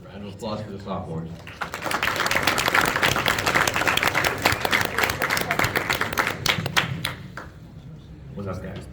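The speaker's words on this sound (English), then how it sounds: "Round of applause for the sophomores" Audience applause at a school wrestling banquet, a full burst of clapping from a room of people that swells in and runs several seconds before fading, with a voice speaking just before and after.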